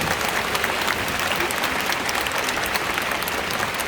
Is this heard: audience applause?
yes